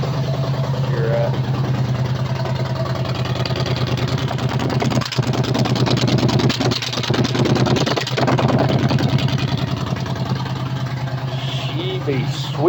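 A 2009 Yamaha V-Star 950 motorcycle engine idles steadily and close up with a low, even throb, while someone talks over it throughout.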